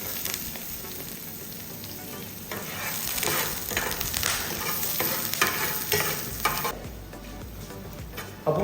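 Shallots and curry leaves fry in hot oil for a Kerala-style okra curry, a steady close sizzle with stirring scrapes throughout, swelling slightly midway, with no talking.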